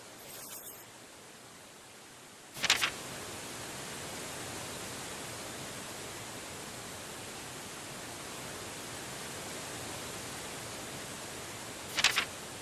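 Steady rushing waterfall ambience in the Deadly Premonition video game, a broad constant roar with two brief brighter splashy bursts, no voices.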